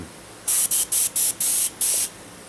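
A Paasche Talon airbrush sprays paint in six short, sharp hissing bursts separated by brief pauses. It is close and clear against a quiet background.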